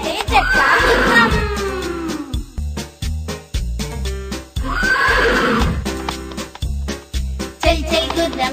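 A horse in a Telugu children's rhyme whinnies loudly twice in long falling neighs, with a brisk run of clip-clopping hooves between and after the calls.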